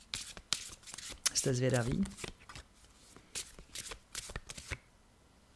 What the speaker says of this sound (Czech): a já už tady budu míchat